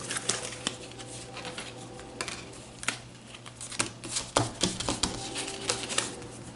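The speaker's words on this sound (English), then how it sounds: "I feel like I'm trying to shuffle here" Playing cards are shuffled by hand during a Legendary deck-building card game, giving a run of crisp, irregular riffling clicks and taps close to the microphone with no talking.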